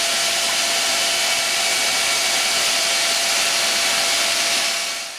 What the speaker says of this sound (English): Here I use the 80 grit paper on the belt sander.